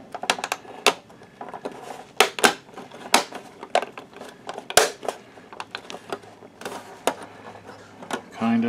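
Plastic clicks and snaps as the keyboard of a Sony VPL-HW45ES SXRD projector is pressed back into its upper case, with a string of sharp, irregular taps and clatters close up.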